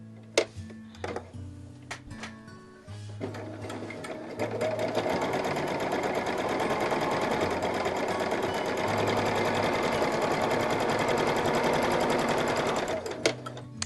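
A sewing machine sews over a thick seam at an angle, starting with a few clicks and thumps, then running at a steady, loud, close mechanical whir for about nine seconds before stopping.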